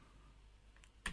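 Quiet computer keyboard typing at a terminal: a near-silent stretch, then a faint key tap, followed by a brief cluster of crisp, close key clicks at the end.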